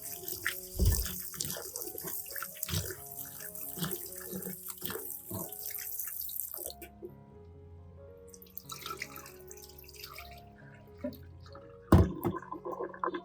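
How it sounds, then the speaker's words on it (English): Running tap water splashes and trickles while peeled onions are rinsed and handled beneath it, with clattering bumps and a pause before the flow resumes. "After peeling all the onions, rinse them thoroughly with plain water once."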